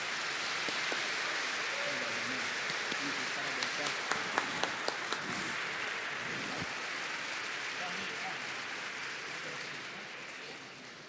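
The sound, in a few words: applause at ceremony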